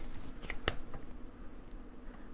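Scissors snip through stiff plastic tool packaging during an unboxing, giving two quick close, crisp cuts near the start against a quiet room background.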